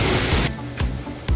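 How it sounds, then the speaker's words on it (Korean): Waterfall in Korea: a loud, steady broadband rush of falling water that cuts off abruptly after half a second, leaving a quieter background broken by two brief soft bursts. "이곳에는 폭포가 많이 있습니다."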